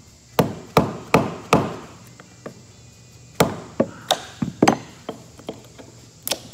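A chisel is struck against rusted ferrocement concrete, giving a series of sharp, close knocks. They come in an uneven rhythm, about a dozen blows with pauses between them, some loud and some lighter.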